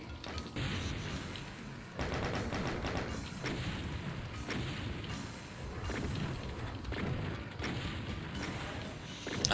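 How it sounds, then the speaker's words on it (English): Rapid chaingun fire echoes through the Doom map pack Plutonia, a faint, continuous rattling barrage of shots with repeated bursts and distant booms. "I hate chain gun sniping so much."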